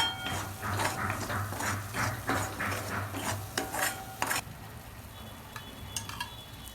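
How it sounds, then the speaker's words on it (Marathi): Masala fried with millet flour in a pan while making chicken liver fry, a soft close sizzle under busy scraping and stirring strokes against the pan, the stirring stopping partway and leaving a quieter hiss. "आपण थोडं पीठ टाकणार आहे बाजरीचं त्याला फ्राय करून घेणार आहे"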